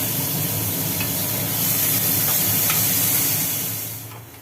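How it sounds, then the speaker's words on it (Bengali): Dense, hissing sizzle of potatoes and bitter gourd frying in hot oil, loud and steady before gradually fading away at the end. "আলু উচ্ছেগুলো এবার ভাজা হচ্ছে"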